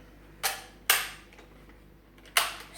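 A Nerf Elite Barrel Break EX2 toy blaster fires three sharp, loud pops, two close together and a third after a pause, each with a short decay, against quiet surroundings.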